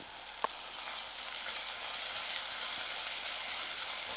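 Half a teaspoon of ginger and garlic fries in hot oil, giving a continuous, even hiss of sizzling with one brief knock near the start and no voices.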